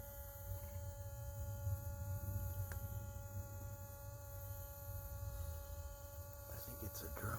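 A small wasp-like flying insect or tiny drone buzzes steadily and faintly outdoors, a continuous thin drone with a few steady tones, with no break across the whole stretch.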